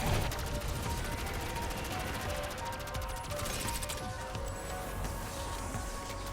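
Rapid Kilo rifle gunfire against zombies in a video game, a dense steady stream of shots throughout, fairly faint under layered game sound.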